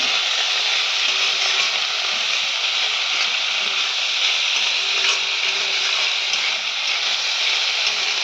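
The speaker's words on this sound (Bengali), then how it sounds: "লোটে শুটকিটাকে একটু ভেজে নিই" Lote shutki, dried Bombay duck fish, frying in a pan gives a steady, even sizzle and hiss that holds unbroken at close range.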